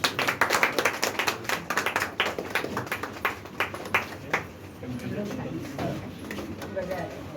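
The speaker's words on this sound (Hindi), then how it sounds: "ताली आप लोग बजाते रहिए।" Audience clapping at a retirement honoring ceremony for a Jal Nigam employee in Lucknow, Uttar Pradesh: a dense run of sharp hand claps for several seconds, thinning toward the end, with a voice talking over it.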